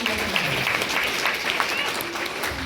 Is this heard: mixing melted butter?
no